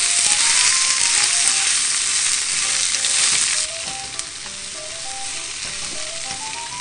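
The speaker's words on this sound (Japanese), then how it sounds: "ごま油を熱します。 そしてね、玉ねぎとカニカマを炒めるよ。" Onions and crab sticks stir-frying in hot sesame oil, a loud, dense close-up sizzle that drops slightly in intensity partway through, with faint stirring and light background music.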